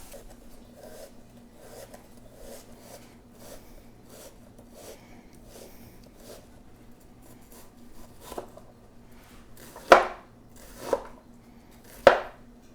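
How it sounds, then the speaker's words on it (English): A knife slices a jalapeno pepper on a board in a steady run of light, evenly spaced cuts, followed by three louder, sharper chops near the end. The setting is quiet. "I'm gonna cut this pepper like this."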